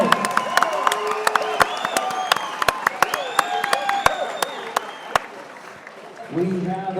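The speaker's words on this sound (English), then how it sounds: "Big round of applause for your second Winter Warrior bout of the night." A crowd at an amateur fight event claps and cheers after a bout, sharp individual claps over a murmuring audience, while an announcer talks over a PA throughout.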